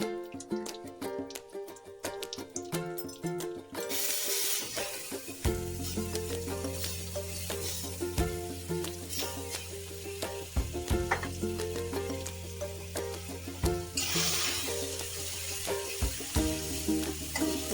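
Cumin paste and chili paste hit a hot pan and fry, a sudden loud sizzle that settles into a steady close hiss with occasional stirring clatter, for a vegetarian paneer dish.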